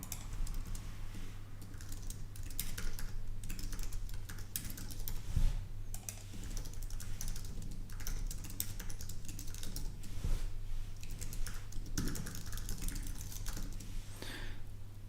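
Rapid, steady clatter of keys on a computer keyboard, close and continuous, with a low electrical hum running underneath.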